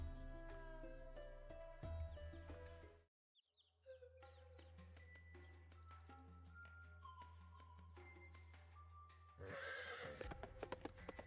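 A horse in the Ragnarok Online video game whinnies and clip-clops in steady hoofbeats. A brief silent gap splits the sound before the hooves and neighs return, with faint chirps and a louder burst near the end.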